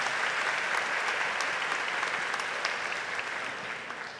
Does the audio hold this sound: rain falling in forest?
no